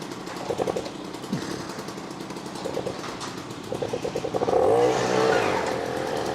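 A Swiss Töffli moped engine running steadily during a ride, with a buzzy, rattling drone that swells louder and rougher toward the end.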